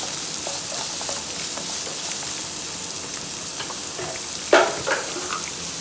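Steady sizzling and crackling of salted vegetables sautéing in a pan for chicken fried rice, with a brief louder clatter of stirring partway through.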